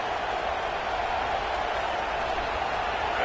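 A college football stadium crowd roars steadily, a loud, sustained wash of cheering and noise that holds level throughout with no distinct breaks.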